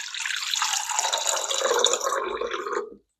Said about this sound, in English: Then we'll add a cup of water.